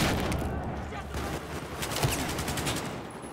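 Rapid automatic gunfire from a weapon in the video game Battlefield 4, team deathmatch on the Operation Locker map, rattling in dense continuous bursts alongside other game noise and a faint voice.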